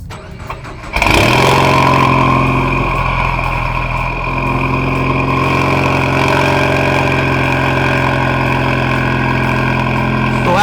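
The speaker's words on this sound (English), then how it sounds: "Go ahead and fire it up." A modified Ford EcoBoost engine cranks and fires, then settles into a loud, steady idle with a deep exhaust rumble, close to the tailpipe and alone throughout.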